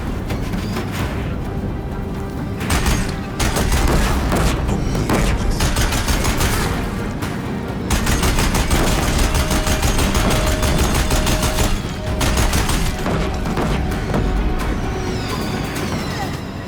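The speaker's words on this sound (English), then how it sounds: "If the Deathbringers keep firing" Deathbringer war machines in Horizon Zero Dawn unleash sustained, heavy gunfire, a loud and nearly unbroken barrage of rapid shots with short pauses, over a dense roar of battle.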